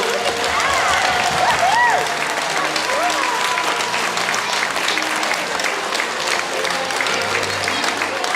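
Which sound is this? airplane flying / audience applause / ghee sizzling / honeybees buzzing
audience applause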